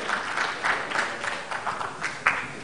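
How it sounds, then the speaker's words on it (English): A conference audience gives a round of applause to speakers and a moderator after a plenary session, moderate clapping with rhythmic swells and a few sharper claps, heard from a distance. "please give another round of applause to all of the speakers and also the moderator"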